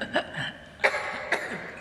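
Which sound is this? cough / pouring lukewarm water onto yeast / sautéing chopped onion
cough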